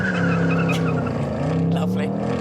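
Ford Mustang Dark Horse with 500 horsepower doing a line-lock burnout in drag strip mode, a loud steady engine drone with screeching tire squeal rising over it, heard close and continuous.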